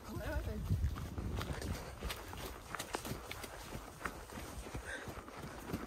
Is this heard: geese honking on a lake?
no